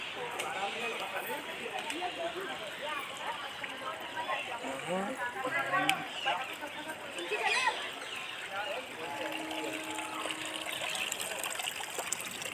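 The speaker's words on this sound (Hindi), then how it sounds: "कैसा पानी आ रहा है।" Water trickles and flows steadily into a rock-cut stone stepwell at the Gopachal Parvat Jain monuments, a soft continuous splashing under people talking nearby.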